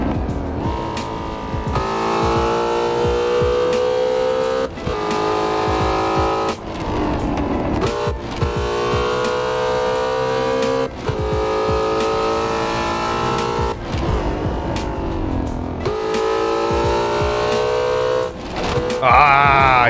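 Ford Mustang GT350 with 770 hp, driven hard in the Assetto Corsa racing game: loud exhaust revving that climbs through repeated gear shifts, each upshift cutting the roar briefly before it builds again.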